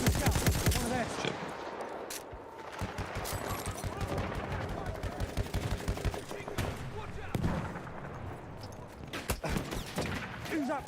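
Rapid machine gun fire and scattered gunshots in the Battlefield 1 video game, dense and continuous bursts throughout, with a voice talking over the shooting.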